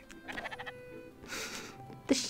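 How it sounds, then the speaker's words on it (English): Game sheep in Spiritfarer bleat, with a wavering call, then a second bleat, then a sharp brighter cry, each fairly close over soft background sound. "The sheep!"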